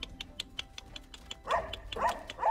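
Dogs barking in a forest, a few sharp barks at moderate distance over faint background, with a louder cluster of barks near the end.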